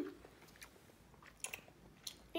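Someone eating noodles, with soft close chewing and wet mouth sounds, quiet and irregular, with a few brief sharper smacks toward the end.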